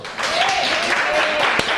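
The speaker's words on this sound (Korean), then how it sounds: "두 손 높이 들고 하나님께 영광의 박수로" A church congregation bursts into a short burst of dense applause in praise of God, with a preacher's raised voice carried over the clapping.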